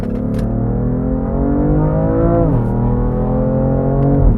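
A stock BMW F80 M3 CS sports car engine revs loudly nearby, its deep rumble climbing and dipping in pitch through a few throttle blips, with no talking.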